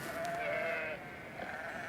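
Sheep bleat on a farm during a harsh winter, one drawn-out wavering call followed by a shorter second bleat, fairly close and fairly quiet, with no talking.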